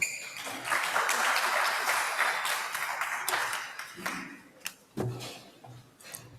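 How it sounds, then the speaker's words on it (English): An audience at a policy dialogue conference applauds as a speaker is welcomed to the podium, a dense burst of clapping that gradually thins to scattered claps. "let's welcome him with a round of applause"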